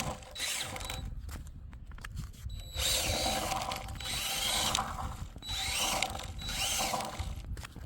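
A DeWalt cordless drill drives an electric longboard through a metal clamp-on mount, whirring and ratcheting in several loud bursts with brief pauses between them, no voices over it.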